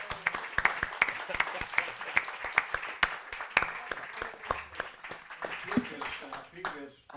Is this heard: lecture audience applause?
yes